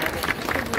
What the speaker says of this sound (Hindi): बहुत ताली मारो भाई